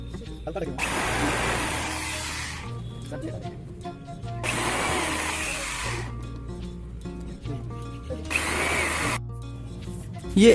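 A power drill bores holes into a stand for a homemade air cooler in three loud, close bursts of a few seconds each, separated by brief pauses with quieter background sound.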